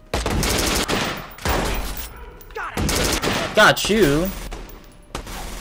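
Bursts of rapid gunfire from a Watch Dogs: Bad Blood firefight at a silo base, loud clattering volleys broken by short pauses, with a voice briefly speaking between shots.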